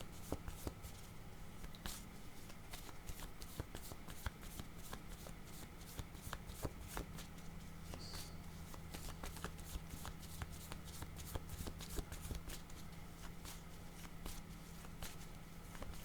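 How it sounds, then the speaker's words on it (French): Tarot cards being shuffled by hand, a long run of quick, soft riffling flicks and taps close up, steady and fairly quiet, with no voices. "Je vais demander une carte sur lutte de pouvoir."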